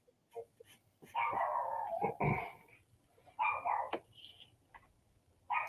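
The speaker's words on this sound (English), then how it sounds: "Look at David's dog, man, getting all up in somebody's grill." A dog barks and whimpers in several close, excited bursts with short gaps between them, without any talk over it.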